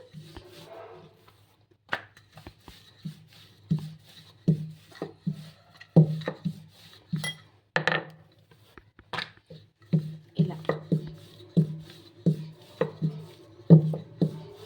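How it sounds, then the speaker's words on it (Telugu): Rumali paratha dough being rolled out thin with a rolling pin on a board, giving a run of soft, fairly close knocks and thuds in an irregular rhythm, with no talking. "ఇప్పుడు పరాటాని చపాతీ రుద్దుకున్నట్టు రుద్దుకోవాలి."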